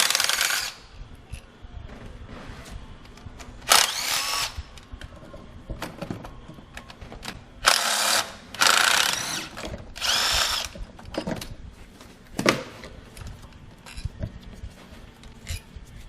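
A power tool spins out the 7mm bolts holding the ignition coils on a Ford 5.4L 3-valve engine, in several short, loud whirring bursts separated by quieter handling clicks and small metallic taps, close by and with no talking.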